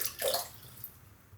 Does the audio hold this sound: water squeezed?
yes